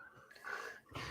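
A small dog growls low and close, a short rumbling snarl that rises midway and flares again at the end, heard alone in a quiet room.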